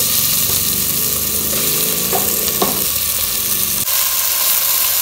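Pork sizzles loudly in a pan with soft tomato and sweet chilies, a steady close frying hiss throughout. A few scrapes of stirring come near the middle, and a brief clack follows.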